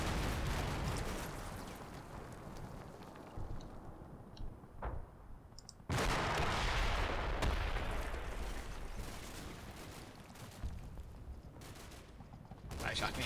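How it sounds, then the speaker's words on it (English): Small arms fire in the war game Combat Mission, faint distant crackling shots and rattling bursts scattered under low ambient battlefield noise, with a louder wash of sound in the second half. "Actually, I can hear some small arms fire here as well."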